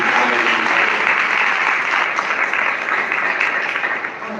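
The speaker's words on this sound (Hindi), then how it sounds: "ताली बजा के परमेश्वर को।" A church congregation applauds during a sermon, a dense, steady wash of many hands clapping at once, loud and sustained for several seconds with no talking.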